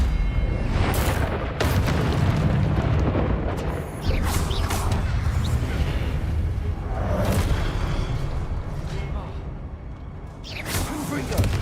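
Confringo spell explosions in the video game Hogwarts Legacy: repeated heavy booms and blasts at irregular intervals over a constant rumbling battle din, loud and close.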